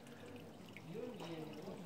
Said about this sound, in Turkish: Gümüşdere karşımızda şırıl şırıl akıyor.